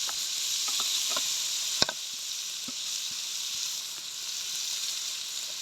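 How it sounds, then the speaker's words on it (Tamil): Tomatoes sauté in a hot pan for mutton gravy, giving a steady bright sizzle with occasional soft stirring clicks and one sharp knock of a utensil against the pan, no voices. "தக்காளி சேர்த்து கொஞ்சம் நல்லா வதக்கி விடுங்க நல்லா வதங்கட்டும்"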